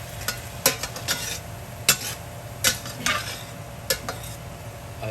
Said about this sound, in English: you take a spatula and scrape it around, and that'll help deglaze it